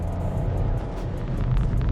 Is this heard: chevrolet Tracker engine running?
yes